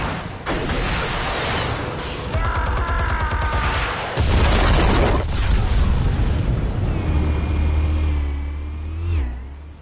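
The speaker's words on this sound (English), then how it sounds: "Explosives armed. Fire when ready." Explosions in a Batman video game, heavy booming blasts with deep rumble, roaring and metallic ringing layered over game effects throughout, with a final swelling impact near the end.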